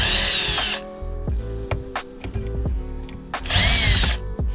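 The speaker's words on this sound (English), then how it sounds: "these are the last two screws that you're gonna need to take off" A power drill removes screws on a Toyota MR2 AW11 during fuel pump work, two loud bursts of high whirring at the start and near the end, separated by quieter clicks and knocks of handling.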